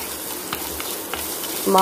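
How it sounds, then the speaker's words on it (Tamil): Onion and tomato sautéing with salt in a pan give a soft, steady sizzle with a few light stirring scrapes, brief and fairly quiet. "இந்த வெங்காயம், தக்காளி வதக்க உப்பு போட்டு இதை நல்லா வதக்கிக்கலாம்"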